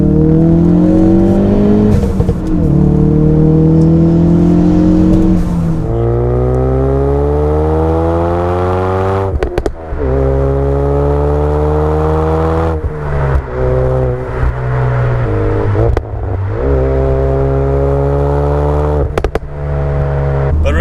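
A Ford Focus RS engine revs hard in second gear through repeated rising pulls, its pitch climbing, dipping briefly, then climbing again, loud and close throughout.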